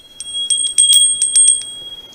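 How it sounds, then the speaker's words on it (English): Small tomato-shaped bell being shaken, a quick run of bright, high metallic rings with clattering strikes, close and loud, fading out after about two seconds. "we have a tomato-shaped bell, which I thought was kind of cute"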